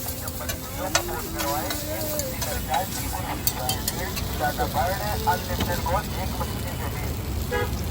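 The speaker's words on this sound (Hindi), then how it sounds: "अब थोड़ा सा चाउमीन को भूज रहे हैं उसमें लपेटने के लिए।" Chow mein fries and is stirred on a large street-stall griddle in Delhi for egg rolls, a constant sizzle broken by frequent metal spatula scrapes and clanks, with voices chattering and passing traffic and horns around.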